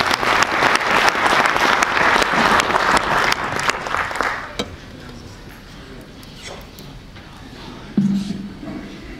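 A conference audience claps loudly and densely for a few seconds to welcome a speaker to the podium, then the applause dies away into a quiet hall with a brief voice near the end.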